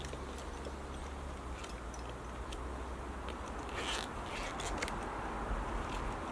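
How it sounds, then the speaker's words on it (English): A zipper on a tripod bag is pulled open in a few short, raspy runs of scraping clicks, close by and fairly quiet against a steady background hiss, with no talking. "unclipping it so I can get the zips out."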